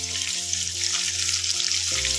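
Onions tipped into hot oil for a pork curry, giving a steady, close sizzling hiss that runs evenly throughout with a faint tonal hum underneath and a brief shift near the end.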